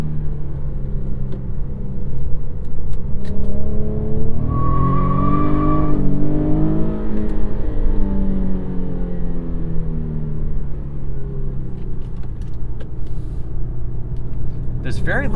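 Inside an Infiniti Q50 sedan, the engine drones steadily and then climbs in pitch as the car accelerates, a loud, continuous in-cabin roar with road rumble underneath, settling back toward the end.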